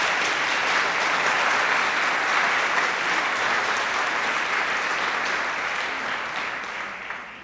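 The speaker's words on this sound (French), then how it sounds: "Applaudissez-les." A church congregation in France applauds visiting brethren from Lyon and Paris, with dense, steady clapping filling the room for the whole stretch and thinning only slightly at the end.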